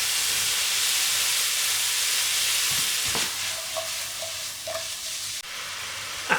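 Prawns and mushrooms frying in a red-hot oiled frying pan, a steady loud sizzle that eases after a few seconds, broken by soft stirring clatters and a final sharp knock.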